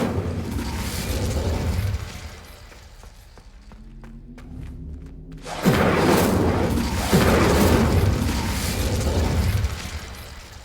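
A fiery Incendio spell erupts in Hogwarts Legacy, a deep roaring whoosh that dies to a quiet rumble with faint clicks and a low hum, then bursts loudly again and burns on strongly.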